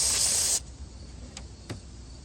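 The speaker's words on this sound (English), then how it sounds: "just gonna spray this towel" A short burst of cleaner sprays from a bottle onto a towel during a throttle body cleaning job, a steady hiss lasting about half a second, followed by faint clicks in quiet room tone.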